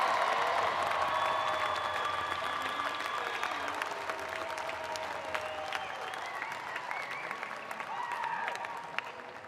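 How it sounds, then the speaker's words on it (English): Audience at a college commencement ceremony for arts and sciences graduates, applauding in a sustained round of claps that swells and gradually fades, with scattered cheers mixed in. "let's give them another round of applause"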